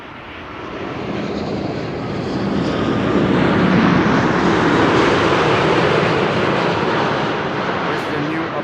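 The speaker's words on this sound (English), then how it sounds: "7879 Dreamliner, KLM flight" KLM Boeing 787-9 Dreamliner jet, flight 668, at Amsterdam Schiphol Airport, a loud steady broadband engine roar that swells slightly mid-clip and holds throughout.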